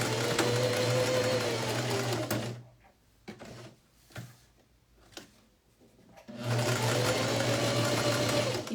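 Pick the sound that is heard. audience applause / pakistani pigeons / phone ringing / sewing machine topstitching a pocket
sewing machine topstitching a pocket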